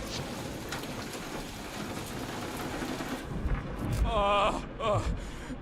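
Steady rain hisses throughout a scene in the Guardians of the Galaxy video game, a dense wash of falling drops that thins out midway as voices speak over it.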